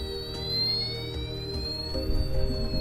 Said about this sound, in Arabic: جهاز الانذار عم يشتغل بشكل طبيعي